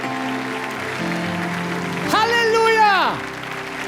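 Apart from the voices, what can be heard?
audience applause in a church service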